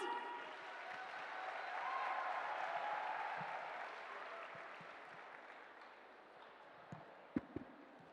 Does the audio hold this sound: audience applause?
yes